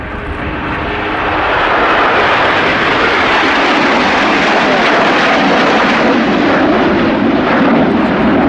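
A fixed-wing display aircraft roars loudly and steadily overhead at the RAF Fairford air show, a dense broadband engine rumble swelling over the first seconds and holding at full volume.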